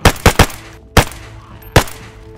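Four sharp gunshots from a DayZ firefight aimed at zombies, two quick shots then two spaced single cracks, loud and close with no talk.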